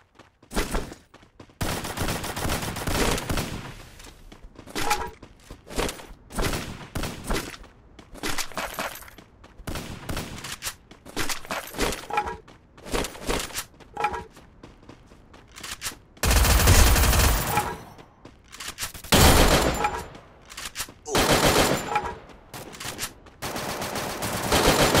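Gunfire in the battle-royale game Free Fire during a solo-versus-squad ranked match: long, dense bursts of automatic fire and rapid shots, loud and close, with brief gaps between volleys.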